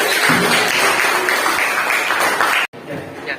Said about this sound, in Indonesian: Tepuk tangan untuk kelompok tadi.